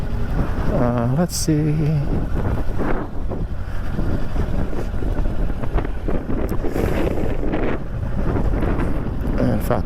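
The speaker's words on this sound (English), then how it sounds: "we're going to head back home because it's really windy" Strong wind buffeting the rider on a 2024 Kawasaki Ninja 500 KRT motorcycle, a loud, gusty low rumble throughout, with a brief voice and tonal sounds near the start.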